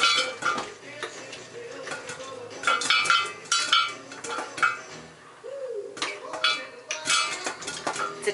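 A little spoon stirs butter, clinking repeatedly against the dish in irregular bursts in a kitchen, close and moderately loud, with occasional background noise between the taps.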